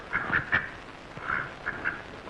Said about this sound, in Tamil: என்னது வாத்து புடிச்சிட்டு வந்திருக்கீங்க?